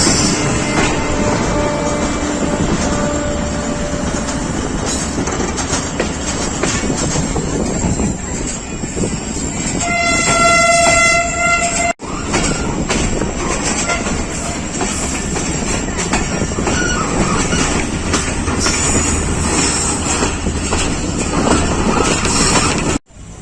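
American-built GU diesel locomotive hauling a passenger train on a long Pakistani rail journey, with a continuous rumbling roll and wind buffeting and a burst of tonal horn-like notes partway through.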